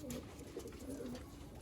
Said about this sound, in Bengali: কত সুন্দর দেখুন পায়রা দুটো।